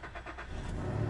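A 2011 Cadillac SRX with about 105K miles cranks and its engine catches within a second, building from a brief churn into a steady, close, moderately loud running note with no talking.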